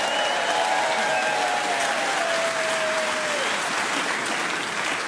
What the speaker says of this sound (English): gained a wonderful round of applause from the audience in the process